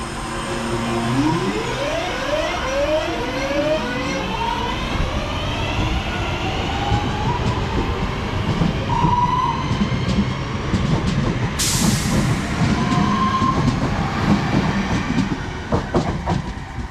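A West Midlands Railway Cross City train pulls away from a platform on the Birmingham–Bromsgrove line, a steady loud rumble with rising whine tones, rail clicks and a brief hiss partway through, with no talk.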